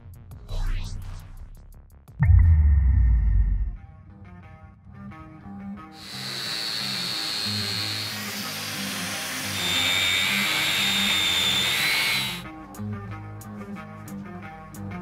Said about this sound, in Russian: Маленькая болгарка не справилась, придется брать большую и делать вещи.